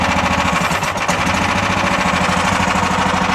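A tracked mud buggy's engine runs hard at high throttle, a loud, rough, rapidly pulsing drone with a brief dip near the one-second mark.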